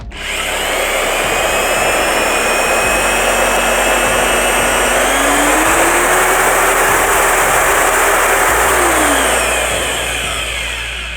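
A Procraft PMM construction mixer runs steadily in first gear at minimum electronic speed, a loud continuous motor whine with a rising and falling tone partway through, alone with no talk.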